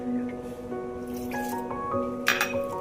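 Water is poured from a small bowl into a gram flour and curd batter for khandvi, with soft dripping and squishy liquid sounds over a faint steady hum and no talking.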